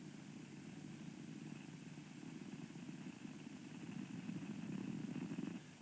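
Space Shuttle Columbia's booster ignition and liftoff, heard as a faint, distant, steady low rumble that swells slightly toward the end, with no voices.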